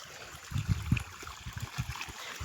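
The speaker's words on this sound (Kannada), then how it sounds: "ಇವಾಗ ನೀರು ಬಿಡ್ತೀನಿ" Irrigation water flowing into a farm field, with low, uneven gurgling surges and splashes over a soft steady wash, fairly quiet and without talk.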